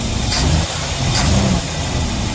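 A 1956 Chevrolet Bel Air engine idles cold after a carburetor rebuild and new fuel line, a steady, rough mechanical rumble with a slight swell in the middle, close and continuous.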